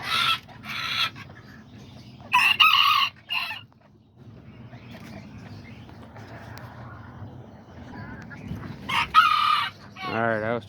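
Rooster crowing in a backyard coop, several loud close crows separated by pauses, with soft clucking and low background noise between them.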